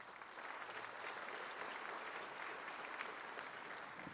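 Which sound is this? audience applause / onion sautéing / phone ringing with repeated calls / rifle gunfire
audience applause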